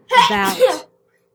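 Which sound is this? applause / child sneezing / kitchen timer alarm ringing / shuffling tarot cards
child sneezing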